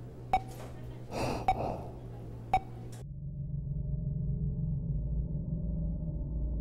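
A dying character breathes with labored, sharp gasps, several strained intakes in the first half, followed by a low steady hum.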